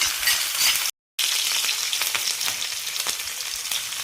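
Chopped garlic and ginger for Kerala egg roast frying hard in hot oil, a loud continuous crackling sizzle with a brief dropout and occasional stirring clicks.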